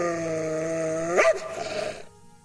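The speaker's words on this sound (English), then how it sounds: "She was in full attack mode, growling and scratching at the closed boiler room door." A dog in full attack mode at a closed boiler room door gives a drawn-out whining tone that bends into a short, rough growl and bark, then fades away.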